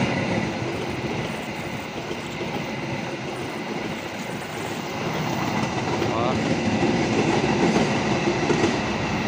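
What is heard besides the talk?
new-generation Argo Bromo Anggrek train passing slowly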